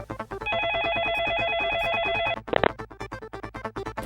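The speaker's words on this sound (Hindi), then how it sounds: "एक अहम तरीन आने वाली टेलीफोन कॉल ने हर एक को अपनी जानिब मुतवज्जो कर लिया।" A telephone rings with an incoming call in a crime story segment, a steady electronic ringing tone repeating for about two seconds, followed by a short burst of sound, with a music bed running underneath throughout.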